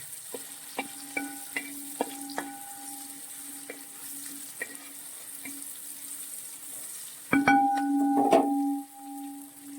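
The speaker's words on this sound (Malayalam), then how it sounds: "ഒരല്പം ഗരം മസാല നമ്മൾ ഇട്ട് കൊടുക്കുകയാണ് ഏലക്ക ഗ്രാമ്പ് കറുവപ്പെട്ട എല്ലാം കൂടെ ഇത് നന്നായിട്ട് വഴറ്റിയെടുക്കുക" Garam masala, cardamom, cloves and cinnamon are sautéed in a pan for prawn biryani, as a spatula taps and scrapes the ringing metal in scattered clicks over a faint sizzle, growing busier near the end, with no talking.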